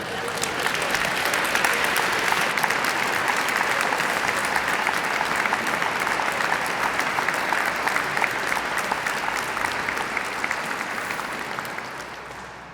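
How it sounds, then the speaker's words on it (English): An audience at the 2018 Business for Peace Award Ceremony applauds in a dense, sustained wave of clapping lasting about twelve seconds, tapering off at the very end. "Please join me in another round of applause for these three extraordinary people"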